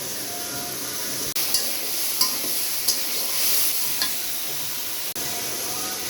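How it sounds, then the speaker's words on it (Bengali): Dried Bombay duck fish frying and being stirred with eggplant in a pan, a steady hiss and sizzle with occasional scraping clinks of the spoon against the pan at irregular intervals. "বেগুন দিয়ে লোটটা শুটকি ভুনা করব আমার ভাইয়ের জন্য।"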